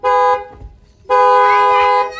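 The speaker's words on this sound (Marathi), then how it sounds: "हॉर्न वाजव एकदा." Two loud, close honks from a new car's horn: a short toot, a brief pause, then a longer sustained blast.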